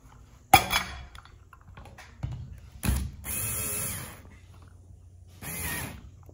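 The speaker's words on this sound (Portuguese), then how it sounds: "Já vamos fixar o primeiro parafuso." A power screwdriver drives a screw to fix a light fixture into a plaster ceiling, heard as three short whirring bursts separated by clunks and handling knocks, close and fairly loud.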